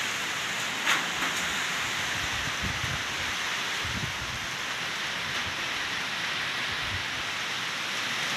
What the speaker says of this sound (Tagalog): Oh, lumakas na naman po yung ulan.